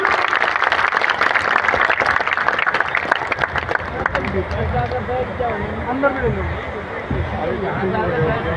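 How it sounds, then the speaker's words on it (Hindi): Crowd applause at an outdoor political rally in Rama Vihar, Mangalam Farm, dense clapping for about four seconds that then fades into a loud murmur of crowd babble and voices. "तालियां बजाते रहे जरूर"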